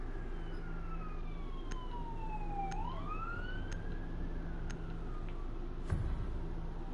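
A police siren wails with a rising and falling tone, starting fairly near and drifting away, heard steadily over background noise with no talking.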